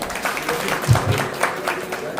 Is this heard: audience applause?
yes